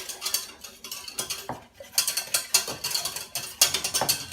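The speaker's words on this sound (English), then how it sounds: "Give it a whisk." A whisk beats a creamy pepper sauce for fillet steak, rapid clicking scrapes against the bowl in uneven bursts, close and alone with no voices.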